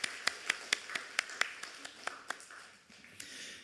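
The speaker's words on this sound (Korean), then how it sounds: "우리 도움이 되신 하나님 앞에 다시 한번 영광의 박수를 올려드리도록 하겠습니다" A church congregation claps together during a Sunday service, sharp distinct claps in a steady rhythm that thins out toward the end, moderately close in a reverberant room.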